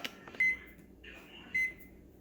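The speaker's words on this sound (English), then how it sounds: "And I'm gonna reset my oven to an hour." Kitchen oven timer being set, giving two short electronic beeps about a second apart, near and fairly quiet over faint background noise.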